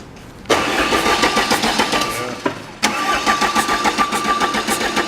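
A Volvo diesel engine that had been sitting unused, in a diesel engine class, cranks and catches with a loud burst. It briefly stumbles, then fires again and settles into a steady, rough running clatter, close up.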